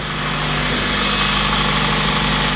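A Honda Civic Type R EP3 engine idles steadily with a low, smooth hum and a muted, quieter exhaust rumble, constant throughout with no voices.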